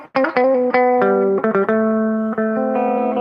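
Distorted high-gain electric guitar plays a short run of sustained notes and chords, thick and loud with a ringing, overdriven tone.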